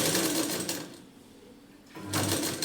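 A sewing machine stitches blouse fabric and lining in close bursts, its steady mechanical whir loud at the start, easing off to a quieter run mid-way, then surging back at full speed near the end, with no talking.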